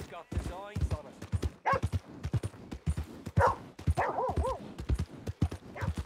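Dogs bark in the video game Red Dead Redemption 2, sharp repeated yips and barks mixed with hoof clip-clop and game voices, with speech running throughout.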